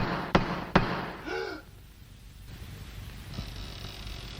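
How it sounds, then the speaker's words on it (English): A stick raps a door twice, sharp and close, followed by a brief voiced sound and then near quiet with faint room noise. "all that I would have to do is to raise my stick and knock, and it would sound like"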